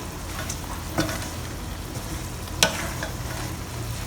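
Wolfberries are stirred into braised herbal chicken in yellow wine, a spoon scraping through the pot with a soft simmering sizzle beneath and two sharper clinks against the pan.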